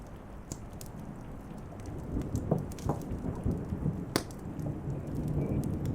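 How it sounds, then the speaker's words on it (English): Thunder rolls over steady rain in a storm outside a hobbit's shelter in the Shire, a low, rumbling swell that builds over several seconds, with scattered drips and patter near at hand. "thunder coming on top of it with a long, tearing sound"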